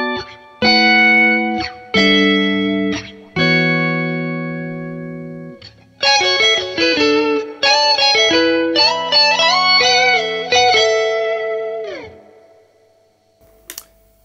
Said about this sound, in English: I have the pitchfork set to a perfect fifth above